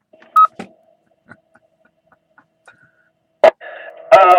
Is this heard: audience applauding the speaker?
no